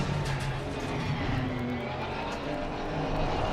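A race car engine in the PS5 racing game Assetto Corsa Competizione, a continuous loud droning roar with a shifting low note, heard alone without speech.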